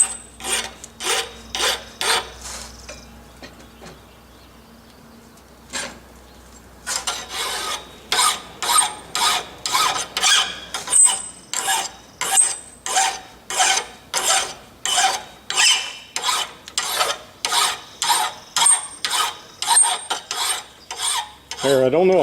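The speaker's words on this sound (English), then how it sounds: "I just about got this all filed off, but you didn't need to see me filing anyway" A hand file worked over a forged metal compass part, giving a close, loud run of rhythmic rasping strokes, about two dozen, after a short pause near the start.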